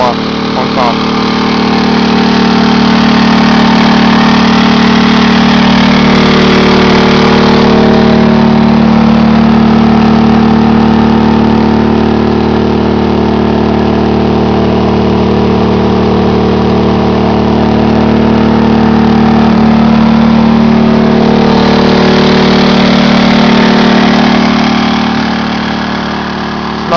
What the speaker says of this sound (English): I'm impressed with the Champion 2000 inverter generator.